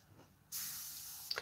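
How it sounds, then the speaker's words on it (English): Airbrush spraying grey paint onto model tips: after a quiet start, a sudden steady hiss of compressed air kicks in and holds, with a couple of brief sputters near the end. "I'm just spraying the tips"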